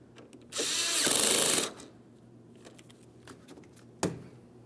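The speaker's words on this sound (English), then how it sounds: "We're starting our mounting bolt and we'll snug it up." A power tool or driver briefly runs to tighten a mounting bolt on a 2015-2025 Ford Transit windshield washer fluid reservoir: one loud whirring burst of about a second, followed by quiet handling clicks and a sharp tap near the end.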